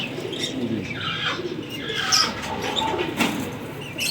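Blue-necked teddy pigeons coo softly in a loft, low murmuring calls repeating at a moderate distance amid faint chirps and background rustle.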